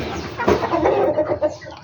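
Several chickens cluck and murmur close by, a busy overlapping chatter of short throaty calls.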